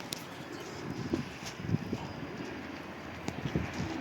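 Pigeons outdoors in light rain, with a few soft coos and wing or foot sounds, fairly faint and scattered over steady background hiss.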